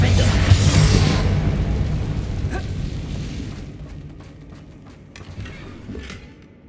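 A loud burst from the Confringo explosion spell in Hogwarts Legacy, a heavy boom that swells at the start and rumbles down over several seconds, with softer crackling blasts trailing off near the end.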